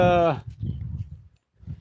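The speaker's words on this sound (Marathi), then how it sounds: "तिकडे आहे आमचे बैल" A farm bull lets out a brief, close, harmonic low at the start, followed by low rumbling noise and soft sounds of the farm.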